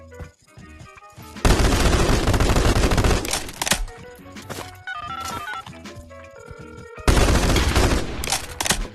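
Bursts of automatic gunfire and rapid shots in the Pavlov VR shooter, loud dense volleys separated by a quieter gap with scattered clicks, then another heavy burst at the end.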